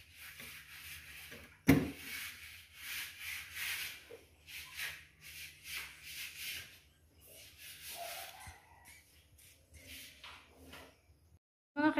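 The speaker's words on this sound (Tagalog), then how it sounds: "natapos na po si Junjun sa pagliha." Wooden door frames sanded by hand with sandpaper, giving repeated rhythmic rasping strokes in short bursts with brief pauses, close and moderately soft, with a sharp knock near the start.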